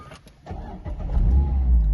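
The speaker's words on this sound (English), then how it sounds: "press that button once and the car comes into life" A Mazda MX-5 2.0 Skyactiv-G engine starts from its push button: a short cranking whir, then the engine catches and settles into a loud, close, steady low idle, with no talk.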